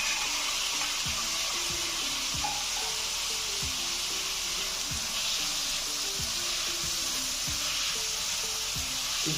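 Chopped tomato and onion fry in a pan for a bhindi chicken salan, giving a steady, moderately quiet hiss and crackle over several seconds, with occasional low knocks and no voices.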